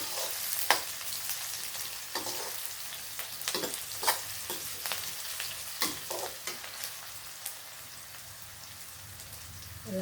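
Chopped onion frying in hot oil after mustard seeds have spluttered, for a prawn curry: a faint, continuous sizzle dotted with irregular sharp pops and crackles.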